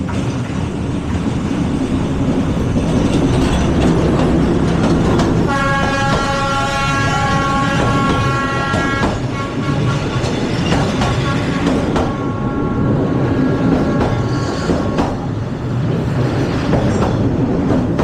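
A train rolls loudly and close through a narrow train street in Hanoi, with a continuous rumbling clatter and a sustained blaring horn in the middle.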